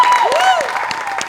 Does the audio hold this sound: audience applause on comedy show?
yes